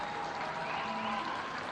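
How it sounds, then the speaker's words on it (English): Hong Kong supporters applaud at a men's rugby match, a steady wash of distant crowd clapping that runs under a commentator's talk. "really nice to see the Hong Kong supporters standing up, applauding the Korean players"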